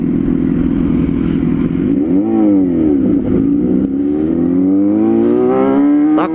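A four-cylinder motorcycle engine revving loudly up close, its tone rising and dipping through several blips before climbing steadily at the end, with a rough mechanical clatter underneath.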